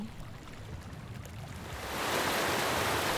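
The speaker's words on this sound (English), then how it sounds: "I hear flowing water." Rushing water flows continuously, growing louder and more hissing partway through, like a stream or falls drawing nearer.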